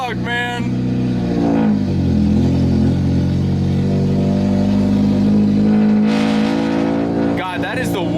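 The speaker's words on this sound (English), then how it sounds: "that is the worst sounding exhaust I've ever heard" A car engine drones and revs loudly through a raspy, badly ruined-sounding exhaust on a first start-up, holding a steady rumble with voices talking over it near the start and end.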